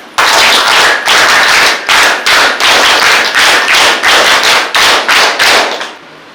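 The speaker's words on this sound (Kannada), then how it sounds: "ಅವರಿಗೆ ನಮ್ಮ ಚಪ್ಪಾಳೆ, ಪ್ರೀತಿಯ ಚಪ್ಪಾಳೆ" Audience at a cultural program welcoming a speaker with loud rhythmic applause, hands clapping together in strong repeated bursts close by, steady and continuous for several seconds before fading out.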